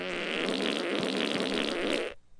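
A single loud, sustained fart rumbles for about two seconds and then cuts off abruptly, heard on its own without talking.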